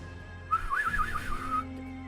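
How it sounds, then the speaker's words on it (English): A person whistles a short, warbling run of quick notes that wobble up and down for about a second over a steady low background hum. "That whistle wasn't as wet as I wanted it to be."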